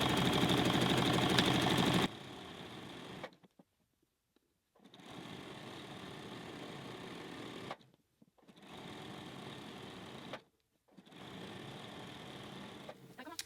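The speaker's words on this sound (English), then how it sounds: "I always top stitch from that side." Sewing machine topstitching a knit raglan T-shirt: a close, fast mechanical whir in three or four bursts separated by short silent pauses as the stitching stops and restarts.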